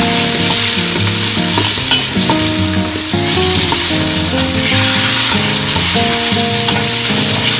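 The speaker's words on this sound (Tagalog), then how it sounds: "Isayin natin ng bawang." Garlic sautéing in a pan for adobo ribs, with a loud, dense, continuous sizzle and scraping stirs, close up, while music plays underneath throughout.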